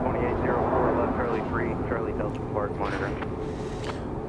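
A Delta Boeing 717 arriving from Atlanta gives a distant, steady jet roar at an airport, with rising and falling whine tones and a person talking over it.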